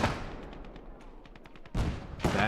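Artillery fires in Call to Arms - Gates of Hell: Ostfront, Finland campaign, with a loud blast at the start, a run of faint distant shots, then two more heavy booms near the end.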